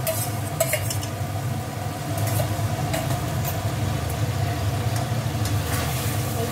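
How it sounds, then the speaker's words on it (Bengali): Potatoes and pointed gourd are sautéed with spices in a pan, making a steady, close sizzle with occasional soft stirring scrapes and no talk. "এর মধ্যে কিছুক্ষণ কষাতে হবে মশলার সাথে আলু আর পটলগুলো"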